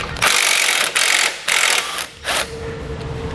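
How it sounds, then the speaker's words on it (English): A 13mm socket on a hand ratchet backs nuts off a Blue Ox base plate kit on a 2020 Jeep Grand Cherokee, with loud close bursts of rapid clicking in four short strokes and a brief pause between each. "We're going to use our 13mm socket to remove the nuts."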